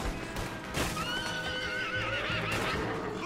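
A horse whinnies loudly in Red Dead Redemption 2 with a wavering, descending neigh over the clatter of hooves and steady background noise.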